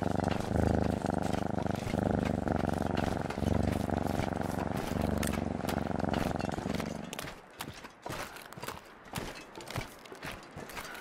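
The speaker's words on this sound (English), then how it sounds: "That's one of the greatest sounds in life, eh? A purring cat." A pet cat purrs close and loud in a steady rhythmic rumble for about seven seconds, then the purr stops, leaving only faint clicks and rustles.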